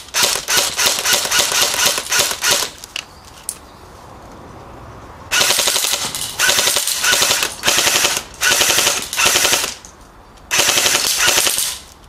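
Airsoft gun firing BioBalls BBs in 0.25 g and 0.2 g weights, rapid automatic bursts of sharp clicking shots, loud and close, separated by brief pauses.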